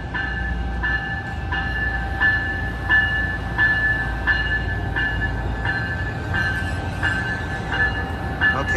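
An Amtrak passenger train led by an ALC-42 Charger locomotive rolls past close by, wheels clicking in a steady, regular rhythm over rail joints above a continuous low rumble.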